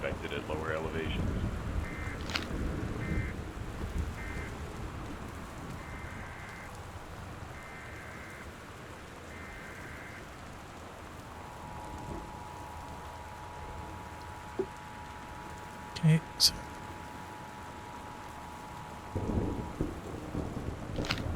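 Steady rain with low rumbles of thunder from the video game Gone Home runs throughout, a broadcast weather-warning tone sounds in the middle, and a voice speaks briefly.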